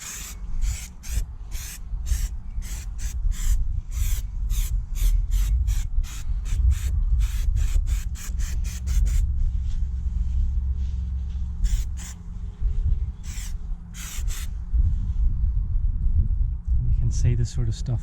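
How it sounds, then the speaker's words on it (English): Cloth rubbing over sanded brake discs to wipe off sandpaper grit and metal bits, a run of close, rapid rasping strokes with a pause midway, then a few more wipes near the end. "so time to give them another wipe down, ready for paint"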